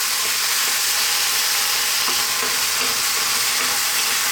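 Roughly crushed tomatoes cook in a pan over heat just above a simmer, giving a loud, continuous bright sizzle and hiss with faint bubbling pops underneath, close up and with no voices.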